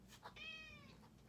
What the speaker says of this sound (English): I apologize if you hear a cat meowing in the background.